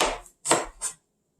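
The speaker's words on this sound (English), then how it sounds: "Ta's chopping away." Knife chopping ingredients for a chicken stir-fry on a board, with three crisp, close chops in quick succession and a sharp tap at the end, and no talking.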